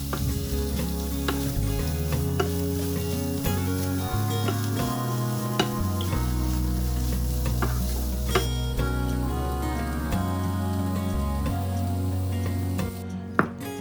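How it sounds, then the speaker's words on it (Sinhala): Chicken frying with a homemade spice mix for enchiladas, a constant loud sizzle with scraping stirs and occasional metallic clicks of a utensil against the pan. "මං හදාගත්ත ස්පයිස් මික්ස් එකෙනුත් මේ සෑන්ඩක් එකමාරක් වගේ එකතු කරලා මේක හොඳට කලවම් කරගමු."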